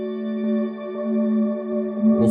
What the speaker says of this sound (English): So if I want to play a D, it's going to sound like this.